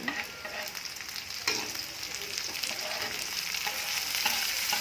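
Large chilies and tomatoes are stir-fried in a hot pan for a Kalimantan-style lunch dish, with a continuous close sizzle broken by scraping stirs and a sharp clatter of the utensil.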